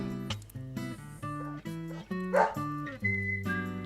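A dog in the video game Deadly Premonition gives a run of short, tonal barks and yips in quick succession, close and fairly loud, with whimpering pitch shifts between them.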